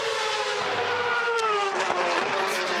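A race car engine during Bathurst 12 Hour qualifying screams past from pit lane, a loud, high, sustained whine that rises and falls through gear changes with no speech over it.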